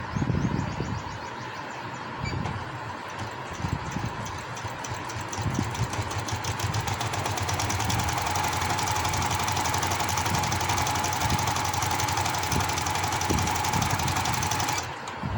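Sewing machine stitching palazzo trousers, a steady continuous mechanical whir that runs close and loud for most of the span before cutting off near the end, with no talking.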